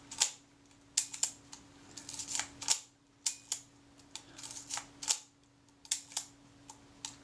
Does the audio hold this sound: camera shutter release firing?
yes